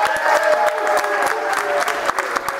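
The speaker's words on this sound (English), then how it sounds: "I want you guys to give Aaron a big round of applause." A studio audience claps and cheers in steady, dense applause that fills the whole clip, loud and close, for a bachelor contestant arriving on a dating game show.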